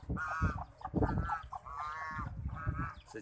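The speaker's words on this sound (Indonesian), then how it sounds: "Soang" Geese honking repeatedly at close range on a farm with chickens, ducks and cattle nearby, loud nasal calls coming in overlapping bursts with little pause between them.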